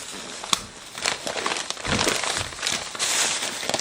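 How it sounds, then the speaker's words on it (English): Close, continuous crinkling and rustling as plastic packaging around a three-tier set of pet stairs is cut open, steady crackly handling noise with a few sharper snaps and no talking. "let's start cutting this open"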